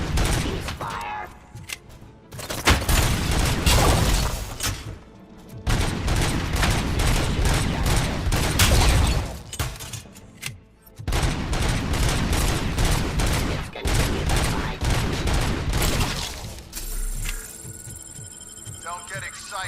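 Sustained, heavy gunfire in the video game RoboCop: Rogue City comes in long, loud bursts separated by short pauses, with voices talking over the shooting.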